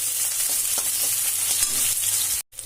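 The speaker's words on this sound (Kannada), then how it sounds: "ಇಲ್ಲೇ ಒಂದು ಉಳ್ಳಾಗಡ್ಡಿನ ಹೆಚ್ಚಿಟ್ಕೊಂಡಿನಿ ಉದ್ದದಾಗೆ, ಇದನ್ನ ಹಾಕೋಣ. ಈಗ ಮತ್ತೆ ಒಂದೆರಡು ಸಲ ಕರಿಬೇವು ಹಾಕೊಳ್ತೀನಿ." Sliced onion and curry leaves sizzle steadily in a hot pan, a dense close frying hiss with light stirring, cutting out briefly near the end.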